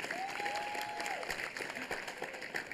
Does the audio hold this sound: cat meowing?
no